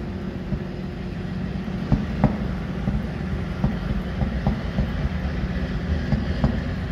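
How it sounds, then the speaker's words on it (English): An oversized superload truck carrying a large dryer drones past on the road, a continuous low engine rumble with scattered clanks and knocks, steady and fairly close, with no talking. "That truck doesn't sound too good either."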